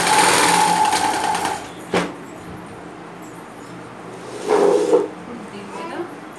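A sewing machine stitches a straight line, a fast close whirring hum in a short burst, then quiet with a single knock and another brief run of stitching.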